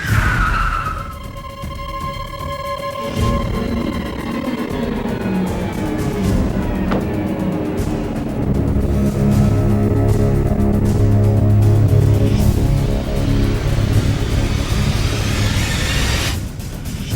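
A car chase in a crime drama: a short tire squeal and skid, then an engine revving hard and roaring through gear changes, loud and close, with no talking.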